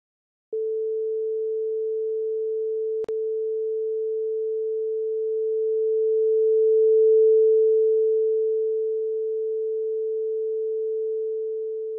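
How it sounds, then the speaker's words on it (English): A steady pure sine wave test tone hums on for about eleven seconds, swelling louder toward the middle and easing back down, with one sharp click early on. "Watch what happens if we make the sine wave louder or softer."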